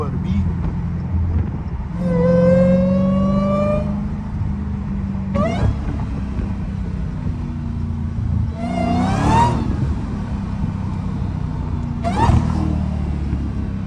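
Loud Dodge Hellcat engine revving and rumbling while driving, with repeated rising whines from acceleration through gears and deep low exhaust drone between pulls, close and dominant.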